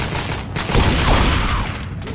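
Dense gunfire in Left 4 Dead 2 on The Parish campaign, a loud, continuous burst of overlapping shots during a fight against infected.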